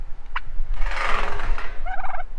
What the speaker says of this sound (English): here's my turkeys, Bonnie and Clyde.